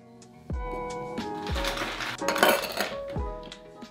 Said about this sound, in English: Now we can add ice and shake